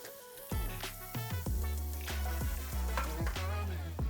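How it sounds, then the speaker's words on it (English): Butter sizzles and bubbles in a frying pan, close and steady, with a series of sharp crackles and pops breaking out at a quick, irregular rhythm over the continuous hiss. "grab a good chunk of butter, and we're just going to drop that into the pan. We want it to bubble a little slowly"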